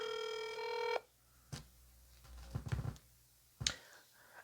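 A phone line rings out on an unanswered call to a journalist: one sustained electronic ringing tone opens the clip, then stops, followed by scattered clicks and handling thumps with no voice.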